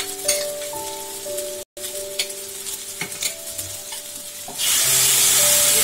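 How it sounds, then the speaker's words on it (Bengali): Fish curry masala for a Bengali katla kalia sizzles and crackles in hot oil on a high flame while being stirred, loud and close, with a brief pause and then a stronger hiss at the end. "আমি হাই ফ্লেমে একটু এটা ভেজে নেব"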